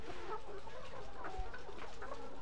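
Layer hens on a farm in cold weather cluck softly and intermittently at a distance, a faint scattered chorus of short calls over low background noise.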